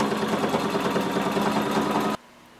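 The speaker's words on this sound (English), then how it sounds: "Pin all the way down your pant leg and then sew using 5/8 of an inch seam allowance" A sewing machine stitches a pant leg seam with a loud, steady, rapid motor hum that stops abruptly, leaving near silence.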